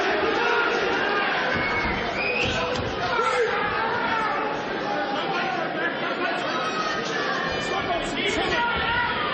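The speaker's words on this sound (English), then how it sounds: "Danny is the chant of the crowd" Boxing match crowd chanting the name Danny, a broad roar of massed voices rising in rhythmic waves around the ring, with a commentator talking over the chant.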